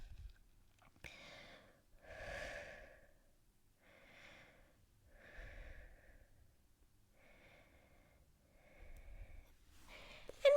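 Slow, audible breathing during a beginner mat Pilates stretch, with about six to seven soft, rhythmic breaths, each a gentle airy exhale, close and quiet with no talking.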